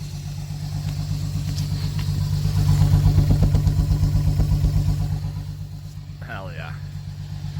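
A Jeep Cherokee XJ engine runs steadily close by with a low, even hum that swells and then settles, and a brief squeak comes near the end.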